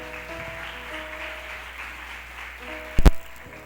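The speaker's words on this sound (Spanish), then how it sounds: "Dale un aplauso al Señor." Church congregation applauding during a Spanish-language service, a moderate crowd clapping under a sustained musical drone, ending with a sharp loud thump or knock near the end.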